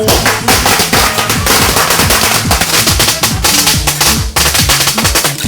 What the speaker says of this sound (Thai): ปืนไม่กลัว กลัวประทัดเนี่ยแหละ จุดแล้วก็ไปแล้วครับ